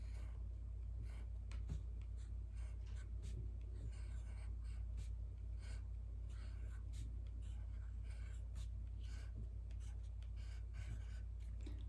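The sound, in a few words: writing a name on a card with a pen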